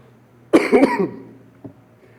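A man coughs in a short burst of several harsh coughs during a church sermon, with a single fainter cough following a moment later; no words are spoken.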